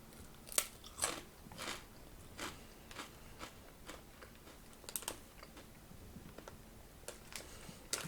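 Aldi Specially Selected crisps are bitten and chewed close up, with a series of sharp crunches at uneven intervals, loudest early on and then softer, and no talking.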